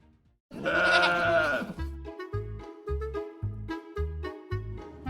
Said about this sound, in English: There's a whole bunch of mountain goats.